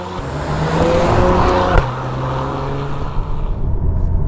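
A 2021 Acura TLX Type S performance sport sedan drives with a loud engine note that climbs through a rev, shifts with a sharp break, then settles into steady cruising with road roar.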